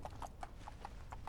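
A white horse's hooves clip-clop in the video game Fallout London, six or seven evenly spaced light knocks at a walking pace, faint against a low background hum.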